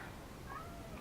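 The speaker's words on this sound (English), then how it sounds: "There's my cat again." A house cat gives a single faint, brief meow, alone against low room noise during a journal-crafting session at home.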